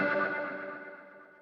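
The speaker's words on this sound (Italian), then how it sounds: "ho inserito un filtro, sempre utilizzando il canale pulito del Marshall Jubilee, e un ulteriore riverbero per allungare un po' la coda" Clean-channel electric guitar through a Marshall Jubilee with a filter and extra reverb, a single sustained chord ringing out with a shimmering, effected tone and a long reverb tail fading steadily away.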